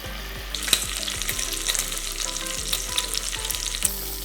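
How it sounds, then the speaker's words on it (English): Bacon sizzles steadily in a pan, frying for charro beans, with a dense continuous crackle and occasional louder pops and stirring clinks, close and alone without voices. "we're just gonna let this cook until the bacon starts to crisp up."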